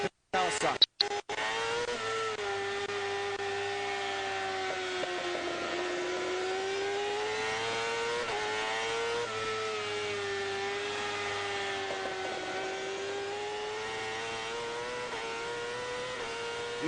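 A Kawasaki superbike races at Laguna Seca in a 2002 World Superbike round, its engine screaming at high revs with a steady, loud whine that rises and dips through gear changes, while commentators talk over it.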